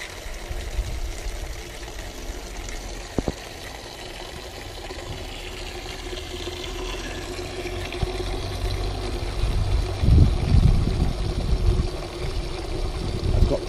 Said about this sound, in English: Both jets hitting into the container.